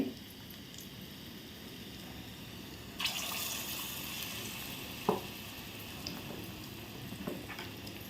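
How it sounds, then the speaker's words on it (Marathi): Shagun unde, a traditional Marathi sweet, deep frying in hot oil in a kadhai: a quiet, steady bubbling sizzle with a few clicks and knocks of a utensil, heard alone and fairly faint. "आणि आता मी ते शगून उंडे तळाला सुरुवात करते त्यासाठी तेल मी तापत ठेवलं आहे"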